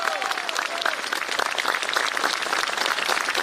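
An audience inside Saint Anna Church claps in steady, dense applause, a sustained roar of many hands with a faint voice fading at the start.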